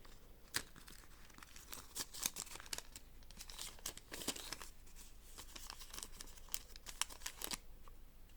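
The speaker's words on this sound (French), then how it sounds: "je le mets dans l'enveloppe, dans la pochette plutôt" Coins and paper being slipped into a budget envelope pouch, with a run of crisp rustling, crinkling and small clicking taps through the whole stretch, fairly close and moderately quiet, with no talking.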